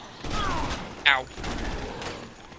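Enemy gunfire in Dead Rising, a quick burst of shots with sharp impacts and a brief whistling tone, loud and close amid game noise, with no talk over it.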